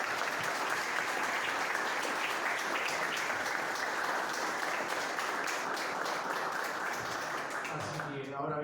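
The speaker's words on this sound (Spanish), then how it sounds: "quiero pedirles un aplauso a ellos" An audience at a lecture in Argentina applauds steadily for several seconds, dense clapping throughout, then fades as a voice begins speaking Spanish at the very end.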